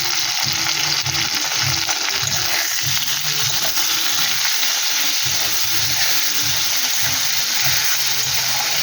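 Tomatoes with salt fry in oil for a katla fish curry, a loud continuous sizzle with rhythmic stirring strokes throughout, close and without talk.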